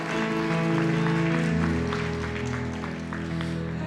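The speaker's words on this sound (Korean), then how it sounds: "우리 마음으로 나가면서 박수하시겠습니다" A church congregation applauds during a Sunday worship service, a steady continuous patter of many hands under sustained organ or keyboard chords that dominate the sound.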